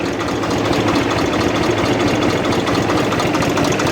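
A farm tractor engine, running after a loosened fitting, with a speedometer cable fault suspected, runs with a steady close, loud, rough knocking rumble and vibration throughout.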